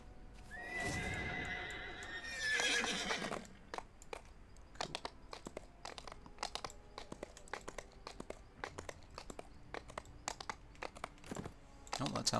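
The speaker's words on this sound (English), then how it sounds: "I'm gonna hop on my horse quickly." A horse in the DDO video game whinnies loudly as the character mounts, followed by a faster second neigh, then a long run of sharp clip-clop hoofbeats and clicks continuing under faint background sound.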